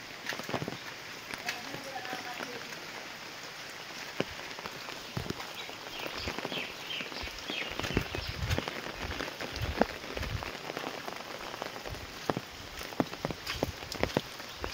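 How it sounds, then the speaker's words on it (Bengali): Monsoon rain that has fallen all night keeps pattering on surfaces, a constant wet hiss with scattered sharper drips and knocks, while a person talks faintly at times. "সারা রাত বৃষ্টি হয়েছে, এখন বৃষ্টি থামার নাম নেই"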